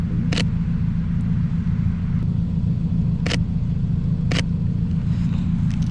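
A Mazda Miata driving through weeds outdoors, a steady loud low engine rumble that runs throughout, with a few brief sharp brushing swishes from vegetation.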